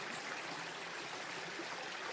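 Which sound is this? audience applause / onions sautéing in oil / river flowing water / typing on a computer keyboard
river flowing water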